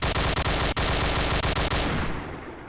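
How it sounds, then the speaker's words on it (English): Rapid automatic gunfire bursts out loud and close in a VR shooter game, a dense rattling stream with brief gaps before tapering into a fading tail. "We're getting shot at somewhere."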